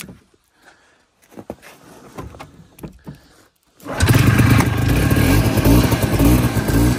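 After carburetor cleaning, a Tundra engine sputters through a few weak, uneven attempts to start, then catches and runs loud and close with a rough, fluttering rumble.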